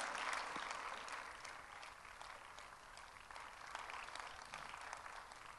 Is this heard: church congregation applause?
yes